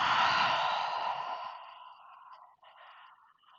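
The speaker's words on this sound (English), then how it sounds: "exhaling fully through the mouth. Nice and loud and audible exhale." A long, loud breathy exhale through the mouth, strongest at the start and tapering off over a few seconds, followed by a softer trailing breath.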